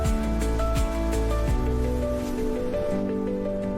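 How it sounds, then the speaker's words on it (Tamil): Gentle cartoon-style rain effect beginning to fall, a steady soft patter and hiss over a musical tonal bed, continuous and moderately loud with no talking. "மழை மெதுவாக ஆரம்பித்தது."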